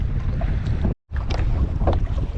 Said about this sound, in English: Wind's blowing real bad